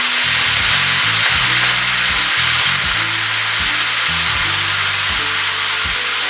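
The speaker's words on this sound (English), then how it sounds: "you just want to leave it alone and let the corn pork fry up" Corned pork frying in hot fat in a pan for ackee and corned pork, giving a loud, steady, close sizzle that stays constant, with a faint low tune running underneath.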